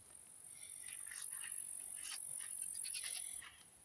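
Crickets chirp at dusk in a steady, high-pitched trill across the clip. Soft, scattered rustles sit underneath, and the chirping ends abruptly near the end.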